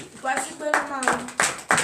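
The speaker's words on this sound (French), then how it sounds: "Donnez l'acclamation à Jésus." Church congregation clapping in acclamation during a morning prayer service, a few sharp bursts of hand claps mixed with a preacher's voice.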